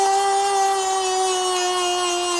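A Dremel rotary tool grinds a rock pattern into a Swiss Army knife, a loud, close, steady high-pitched whine holding a constant tone throughout.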